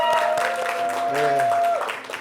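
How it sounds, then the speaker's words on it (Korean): Audience applause on a TV show, following a performer's introduction, heard as a brief burst of clapping behind a sustained tonal voice or music that fades toward the end. "한번 박수 한번 쳐주시죠"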